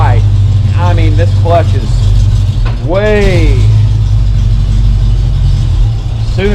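A 1966 Ford Mustang with an EFI engine idles steadily and loudly nearby after starting, a deep constant rumble beneath a voice speaking over it.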